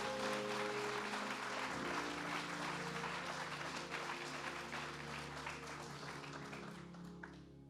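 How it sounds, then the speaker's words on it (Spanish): A church congregation claps for the Lord during a service: dense, loud applause fills the whole stretch over steady sustained instrumental tones, thinning slightly near the end. "Dele un aplauso al Señor."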